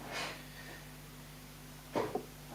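A single close sneeze bursts out near the end, preceded by a faint breathy sound, over a low steady hum in a quiet indoor setting.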